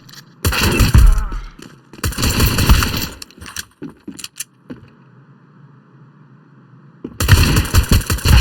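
USP pistol fire in Counter-Strike 2 comes as loud, close bursts of rapid shots. Several volleys are split by short quiet gaps, with softer clicks and thuds between them.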